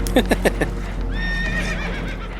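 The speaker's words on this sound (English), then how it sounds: "Horses are spooked" Spooked horses in Red Dead Redemption 2 let out a quick run of four sharp, close neighs, then one longer shrill whinny with ongoing rumbling background noise beneath.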